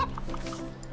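Soft, quick clucks from a chicken in the video game Wytchwood, a few short pulses within a second over a low background hum, faint and close.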